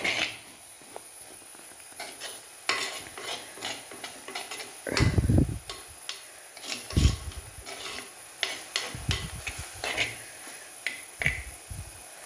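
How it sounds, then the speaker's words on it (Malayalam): A spoon stirs papaya and carrot thoran, dressed with a spoonful of coconut oil, in a hot clay pot. The scrapes and clicks come at an irregular pace, with a few heavier low knocks against the pot along the way. "ഇനി അതൊന്ന് ഇളക്കി നിർത്താൻ പോവുക"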